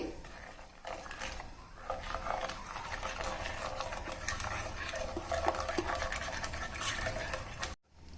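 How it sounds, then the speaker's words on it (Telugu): Milk and cocoa powder being stirred in a pan over a low flame, a steady faint scraping and swishing of a utensil against the pan, continuous and close, with no talk. "ఇలా కొంచెం కొంచెం వేసుకుంటూ మిక్స్ చేసుకొని లో ఫ్లేమ్ పెట్టుకొని ఉడికించుకోవాలి"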